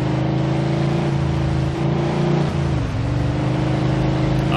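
A limousine engine in the video game Mafia II accelerates loudly, a close, steady drone rising in pitch with a brief dip before climbing again.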